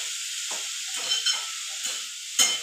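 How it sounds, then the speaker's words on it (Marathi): Red amaranth bhaji is stirred in a pan over a steady sizzling hiss, with a few soft scraping strokes and one sharper clink, all close and fairly quiet. "ती व्यवस्थित ढवळायची."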